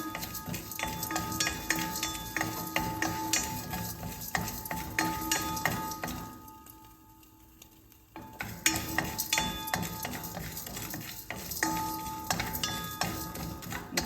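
Spices for sambar powder fry in a pan, stirred with steady scraping and soft sizzling, a spoon clinking against the metal; the stirring drops away briefly near the middle before resuming at the same busy pace.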